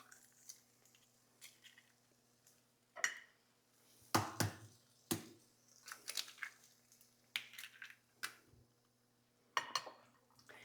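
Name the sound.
eggs being cracked on a flat surface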